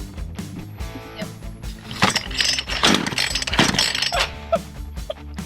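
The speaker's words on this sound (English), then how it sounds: "Jonathan's gonna start the chainsaw and cut the posts." A chainsaw engine runs with a buzzing drone while loud, rough cutting bursts rise and fall as it chews through wooden posts.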